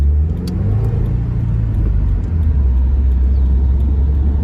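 A 2018 Subaru WRX with a manual gearbox accelerates on the road, its steady low engine rumble and rising drone filling the cabin, heard alone without talk.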